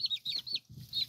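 Two-week-old chicks peeping and clucking close by, a quick series of short high chirps over soft low murmuring, with no talk.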